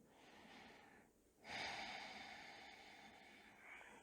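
A slow, deep breath during a yoga session, audible as a soft, airy exhale that swells after a brief pause and then tapers off gradually, close and unaccompanied by talk.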